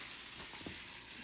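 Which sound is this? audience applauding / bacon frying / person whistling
bacon frying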